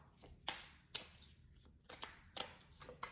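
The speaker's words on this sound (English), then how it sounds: "we're gonna go ahead and shuffle a little bit more" Tarot cards being shuffled in a series of soft riffling bursts and slaps, close and fairly quiet, with short pauses between shuffles and no talking.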